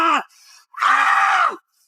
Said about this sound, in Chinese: 剧烈的疼痛让他疯狂大叫